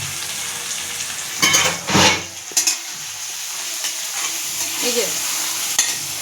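Turmeric, chili powder, coriander powder and salt sizzle in oil for a fish gravy, with loud scraping stirs and clinks of a spoon in the pan over a steady frying hiss and a brief spoken remark.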